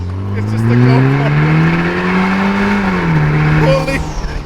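A Vanderhall car accelerates hard, its engine note climbing and holding loud and close for several seconds, then dipping as the revs shift before rising again near the end.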